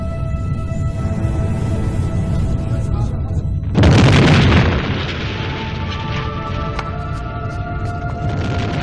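Mount Vesuvius erupting in 79 AD, heard as a sudden deep roaring boom that swells over a rumbling background, holds for about a second, then decays into continuing low rumble.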